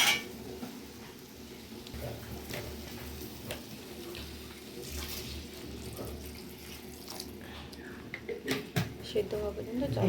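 Hot water pours and sloshes into a pan of ivy gourd dal with fried gourd pieces, followed by faint stirring and utensil clinks, while someone talks throughout.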